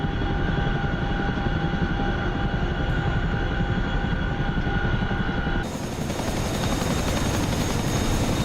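A Chinook helicopter in a video game, a loud, steady rotor drone with constant engine whine that runs throughout and shifts tone slightly partway through, with no voices.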